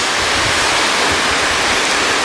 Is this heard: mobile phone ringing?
no